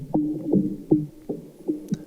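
Filtered experimental drum loop with delay and compression, a few muffled, dense thuds in a steady pulse with smeared echo between hits, close and alone.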